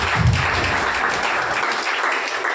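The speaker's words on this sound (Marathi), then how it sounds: "टाळ्या वाजवूया देवाच्या नावासाठी" A church congregation claps together, filling the room with a dense, steady wash of applause that stays even from start to end.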